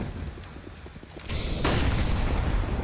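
Heavy grenade blasts in a Counter-Strike esports match at IEM Katowice 2023, a deep booming explosion followed by a second loud blast with rumbling noise trailing on.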